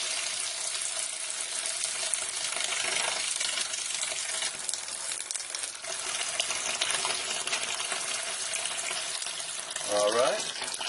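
Water rushes steadily through the sediment, pre-carbon and ultra filters of a Wellsys bottleless water cooler, a continuous hissing flow with faint clinks. A brief, louder gurgling burst comes near the end.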